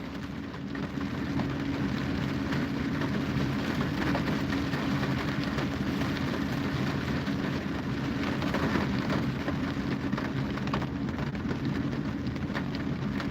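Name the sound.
rain falling with thunder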